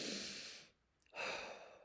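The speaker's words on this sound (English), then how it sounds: "take a deep breath" A slow, deep breath drawn in through the nose at bedtime: a soft, airy rush up close that fades into a brief quiet pause, then a second breathy swell follows.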